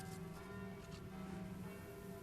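Church bells ring steadily and fairly faint, their sustained tones layered in a continuous wash with no voice over them.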